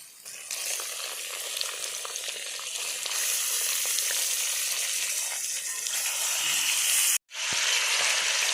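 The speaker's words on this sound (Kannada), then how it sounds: "ಈಗ ಹೈ ಫ್ಲೇಮಲ್ಲಿ ಇಟ್ಕೊಂಡು ಗ್ಯಾಸನ್ನು ಚಿಕನನ್ನು ಫ್ರೈ ಮಾಡ್ಕೊಳ್ಬೇಕು" Marinated chicken fries over a high gas flame in a pan with golden onions, producing a loud, continuous sizzle that cuts out for a moment near the end.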